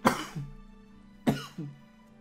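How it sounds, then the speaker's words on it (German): Two loud coughing bouts from a man, each a sharp burst followed by a short wheezy throat-catch, about a second apart and close to the microphone, with no talk over them. "Ich muss schon wieder husten."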